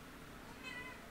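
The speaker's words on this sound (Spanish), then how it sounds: "Ven aquí, gato." A cat meows inside the Sonic Adventure 2 Battle video game, a single faint, brief meow with no talking over it.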